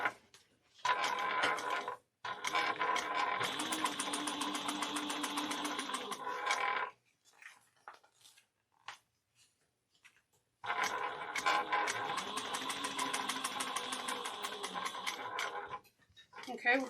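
Sewing machine top stitching 1/8 inch along the bottom of a bag pocket, running in two steady bursts of several seconds each, separated by a pause with small handling noises, close and clear.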